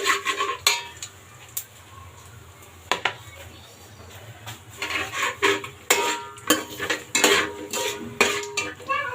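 Whole spices, including shahi jeera, are stirred in a pot for village-style chicken biryani made with normal rice. A metal spoon makes repeated, uneven clinks and scrapes against the pot, close and fairly loud, with a light crackle underneath.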